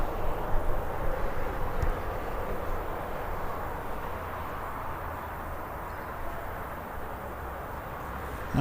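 Ryanair jet departing Birmingham airport bound for Warsaw, a steady broadband engine roar held at moderate distance for the whole stretch, fairly even with no voices.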